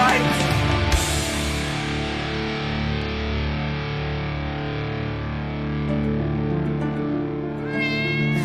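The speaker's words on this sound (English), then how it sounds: "The damn cat." A cat meows in a drawn-out, wavering cry, loud and up close, laid over steady game music inside an old-school online game.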